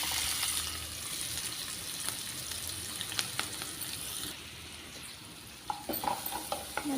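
Chopped onions and green chili frying in a pan, a constant crackling sizzle with scattered utensil scrapes and taps that grow more distinct toward the end, no voices.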